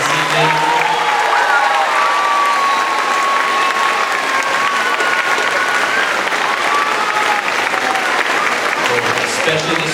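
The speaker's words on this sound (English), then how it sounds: "can I have one more round of applause for all three of our bands this evening?" Sustained applause from an audience at a middle school band spring concert, loud and steady for the whole stretch with a thick wash of clapping and faint crowd murmur.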